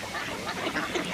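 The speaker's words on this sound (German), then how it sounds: "Wasservögel. Enten," Ducks quacking on winter ice among other waterbirds such as coots and swans, a steady, fairly faint cluster of overlapping calls with no talk.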